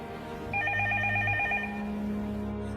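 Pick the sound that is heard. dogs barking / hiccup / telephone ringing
telephone ringing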